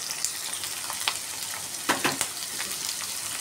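Mustard seeds and cumin crackling in hot oil in a pan while chili goes in, a steady close sizzle dotted with sharp pops and spits, no talking.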